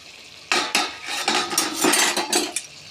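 Metal lid lifted off a cooking pot of potato, eggplant and dried fish curry, with clattering metallic knocks and scrapes that start after a short quiet lead-in and continue in a busy burst of clinks.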